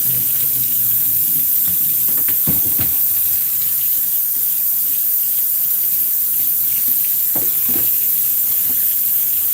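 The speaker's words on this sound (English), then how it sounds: "while I fill up the bucket with some clean water" Steady running tap water pours continuously into a bucket, a constant hiss with a few faint knocks and clunks along the way.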